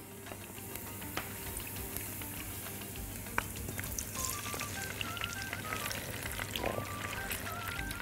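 Cherry tomatoes sizzle and crackle in a hot frying pan, with garlic already in, making a steady close frying hiss with scattered pops throughout and no talking.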